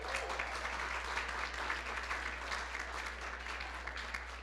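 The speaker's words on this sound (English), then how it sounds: "Let's give them a round of applause." A Chamber of Commerce gathering breaks into steady, dense applause from a crowd, a continuous wash of many clapping hands heard from some distance over a low hum.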